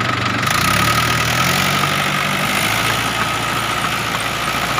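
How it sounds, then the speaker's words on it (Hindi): Mahindra 575 XP Plus tractor running with a rotavator in a field, giving a loud, steady engine drone with a continuous broadband rattle of the working implement and no pauses. "18 घंटे ट्रैक्टर चल गया।"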